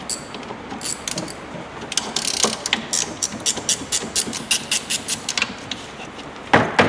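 A ratchet loosens bolts during heat exchanger repair on a 2018 Sidewinder snowmobile, with rapid, repeated clicking bursts in an uneven rhythm, close and moderately loud, with no talking.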